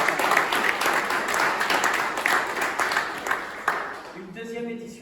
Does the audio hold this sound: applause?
yes